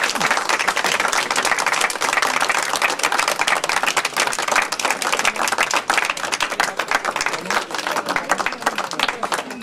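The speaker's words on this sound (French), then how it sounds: "Et on peut s'applaudir." Audience and children applauding at the closing ceremony of a French poetry festival, loud and sustained clapping with sharp individual claps in a dense wash, a few voices faintly mixed in beneath.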